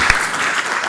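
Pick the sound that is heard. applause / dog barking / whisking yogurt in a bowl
applause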